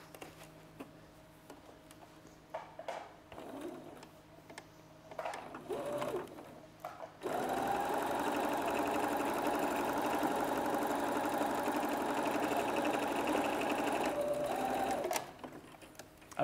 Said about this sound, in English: Again, we're stitching along this bit here.